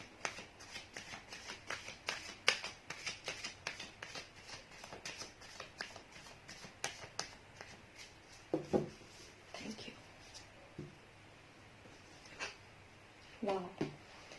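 Tarot cards are shuffled and drawn indoors: soft, quiet rustles and riffling flicks in a loose, uneven rhythm, close but faint, with a few brief louder taps.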